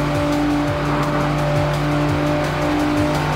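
Car engine in a highway racing video game, a steady loud drone with rising pitch sweeps repeating about every half second as it accelerates through gears, no voices.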